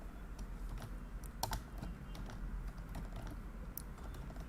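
A computer keyboard clatters steadily as a code comment is typed, a dense run of quick close clicks with a few sharper keystrokes standing out, alone with no talking.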